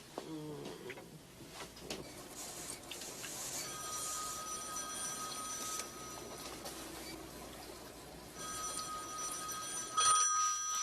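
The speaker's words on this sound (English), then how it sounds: "answer the phone" A telephone rings indoors in a home, its electronic tones sounding in bursts over music and room noise, with a louder ring near the end.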